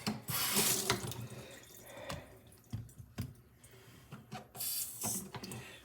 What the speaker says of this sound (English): I'm going to rinse this and clean it off. Clean off the swarf.